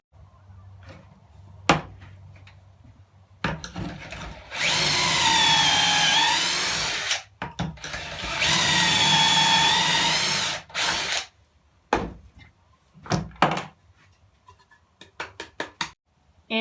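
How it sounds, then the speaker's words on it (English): Power drill boring pocket holes in clamped cherry wood boards for a coffee table: two long, loud whining drill runs, each several seconds, separated and surrounded by clicks and clunks of handling the jig and workpiece. "now it's time to drill pocket holes"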